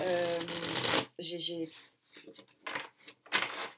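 Playing cards shuffled and drawn close up, with brisk riffling bursts and short flicks while a person talks in between.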